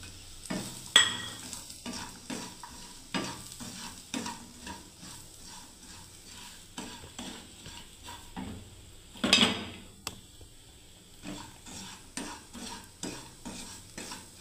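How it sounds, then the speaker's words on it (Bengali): Semolina with nuts and raisins frying in a pan, stirred with a utensil in a repeated rhythm of soft scraping strokes over a faint sizzle, with a few sharper clanks against the pan, close and quiet, no voices. "এবার ভাজতে থাকবো ভালোভাবে দেখুন সুজিটাকে।"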